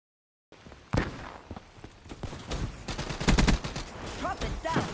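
BRM light machine gun in Black Ops 3 multiplayer, a close, rapid burst of automatic fire mixed with quicker single cracks and footsteps, loud over an otherwise busy game backdrop, with a voice faintly present.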